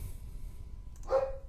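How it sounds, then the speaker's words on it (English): A single short dog bark sounds once near the end, moderately loud against a quiet, low background hum. "that is a dog barking"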